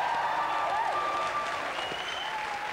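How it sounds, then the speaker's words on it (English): A BBC2 Juke Box Jury TV studio audience from 1990 cheers and applauds steadily, a dense, sustained wash of clapping and crowd noise with faint whistles throughout. "They're not. They're cheering."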